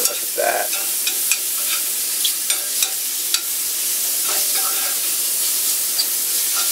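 Bacon-wrapped steak sizzling loudly in a cast iron pan, a dense continuous hiss close up with occasional sharp pops and spatters, no talking.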